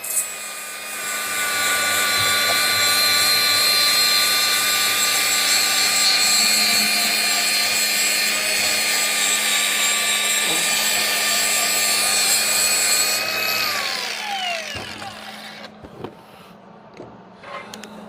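A power tool grinds down a metal tube for a homemade trailer jack drill adapter, a loud steady whine held for about thirteen seconds, then spinning down, followed by faint clatter.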